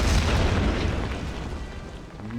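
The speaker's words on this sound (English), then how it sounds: "Use the artillery on the fortifications." Artillery in Order of Battle shelling enemy fortifications, one heavy booming blast that rumbles low and slowly fades out over a couple of seconds.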